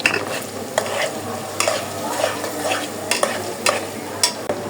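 Cumin seeds sizzle steadily in hot oil in a frying pan while a spoon stirs and scrapes the pan in regular strokes, close and fairly loud, with no voices.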